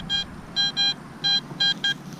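A metal detector sweeping a racetrack campground gives a run of short, bright electronic beeps in quick irregular pairs and singles, close and clear over faint outdoor hiss.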